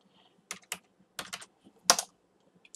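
Keys on a computer keyboard are tapped to enter a password, a handful of quiet, close, separate clicks spread irregularly over a few seconds with near silence between.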